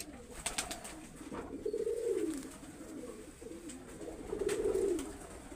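Short-footed flying pigeons give two distinct rolling coos a few seconds apart, close and fairly soft, over a faint background with light clicks.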